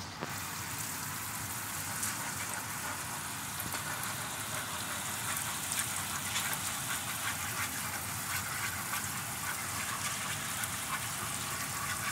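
Broth poured steadily into risotto rice with saffron, a continuous watery gush and simmering hiss lasting throughout without pause, fairly close and even in level, with no talking.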